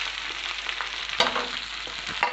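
Green chilies, onion and curry leaves fry in a pan with a steady, fairly close sizzle, broken by a couple of sharp stirring clacks from a spatula.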